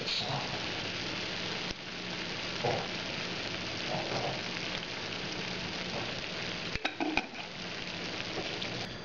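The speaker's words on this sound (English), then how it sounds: "So we're going to simmer it for a while uncovered while this tries to reduce." Tikka masala sauce simmering uncovered in a pan, a soft continuous bubbling sizzle with a few faint clinks of cookware near the end.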